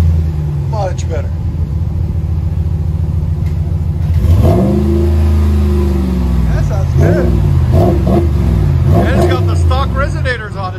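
A 2019 Ram 1500 Laramie with a 5.7L Hemi V8 and a Flowmaster Super 44 dual exhaust revs repeatedly, its deep rumble rising and falling in several throttle blips, loud and close.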